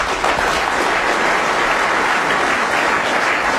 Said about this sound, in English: The applause from the crowd tells you they're aware that Ronnie O'Sullivan's going to be 1-0 behind